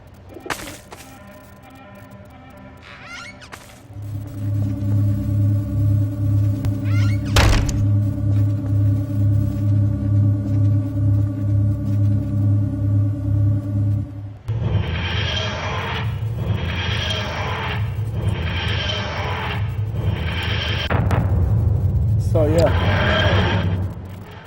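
The 1975 TARDIS of the Fourth Doctor in the video game Garry's Mod, with a sustained humming drone and a sharp crack, then repeated rising and falling wheezing groans pulsing in a steady rhythm, loud and close, with a voice talking over parts of it.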